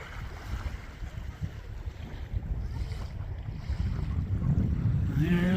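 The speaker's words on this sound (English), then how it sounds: "Here we are at the beach." Wind buffeting the microphone on a beach on the Atlantic coast of Maine, a continuous low rumbling roar that grows stronger toward the end, with no talking.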